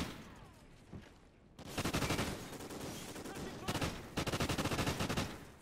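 Rapid automatic gunfire from a shotgun in the video game Call of Duty Ghosts, loud and close, in dense sustained bursts with short pauses and a final rattling volley.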